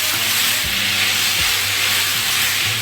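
Brinjal sautés in a pan for thuvaram paruppu sambar, a loud, continuous close sizzle and hiss with soft stirring scrapes recurring every second or so.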